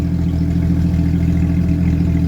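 Vehicle engine started for the first time in a long while, running on its stock exhaust: a loud, steady low rumble held close and constant, with no talking.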